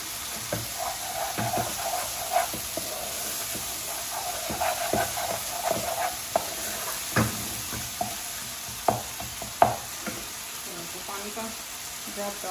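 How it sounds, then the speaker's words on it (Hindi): Spiced masala for mutton liver sizzles softly in a pan as a spoon stirs and scrapes it, with a steady frying hiss punctuated by irregular clinks and scrapes, fairly quiet and close. "इतना मसाला अच्छा भुना हुआ होगा उतनी मज़ेदार बनेगी"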